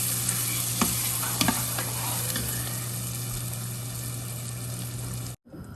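Coriander, cumin and dal hit hot oil in a pan for dosa filling, giving a steady, close sizzle with a few stirring clicks, a sharp break near the end.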